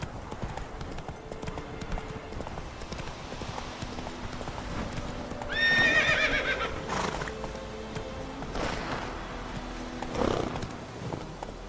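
Roach the horse in the game The Witcher 3 trots with steady clip-clop hoofbeats, then gives a loud whinny midway, with more hoof thuds and a snort following under light background sound.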